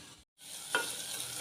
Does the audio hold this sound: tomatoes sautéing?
yes